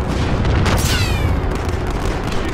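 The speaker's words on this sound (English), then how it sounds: "Allied cruise missile away." An allied cruise missile fires and explodes in a multiplayer shooter game, a loud, dense burst of booming rumble with a whistling sweep sustained through the short moment.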